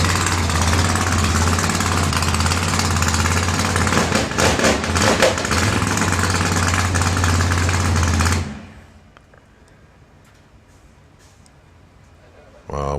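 A loud, throaty drag racing engine roars and revs for several seconds at a qualifying event, then cuts off abruptly, leaving quiet background noise.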